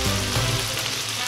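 Food browning in a pan for a taco bar, giving a steady, close hiss and sizzle of frying that runs without a break.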